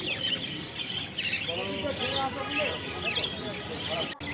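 Lovebirds and blue pineapple conures at the Garia bird market chirp and tweet continuously in a busy, close chorus, with people talking throughout.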